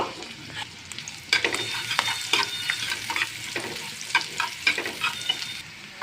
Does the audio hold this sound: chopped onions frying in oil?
yes